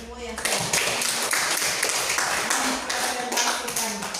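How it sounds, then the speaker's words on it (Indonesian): A classroom audience applauds after a group discussion during a micro-teaching exam, a dense run of hand claps starting abruptly and carrying on steadily. A voice is heard over it. "Kita semua tepuk tangan untuk semua yang sudah"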